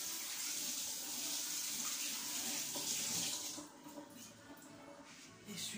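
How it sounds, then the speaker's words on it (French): A kitchen tap runs steadily while hands are washed under it, a continuous close splashing hiss that softens slightly toward the end as the flow is disturbed. "Je vais devoir laver mes mains."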